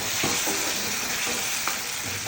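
Tomatoes are added to a frying gravy that sizzles steadily, with several soft stirring scrapes spaced through the sizzle.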